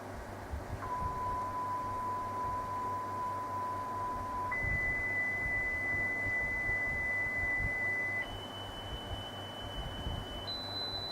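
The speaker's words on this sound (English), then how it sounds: "Just doing some test tones," A Tandberg TCD 310 cassette deck plays back steady sine test tones that start at 1 kHz and step up in 1 kHz jumps, each pure beep holding for a few seconds over a low tape hiss and hum.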